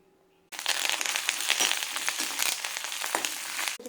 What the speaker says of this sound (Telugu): తాలింపు వేసేసుకుందాం.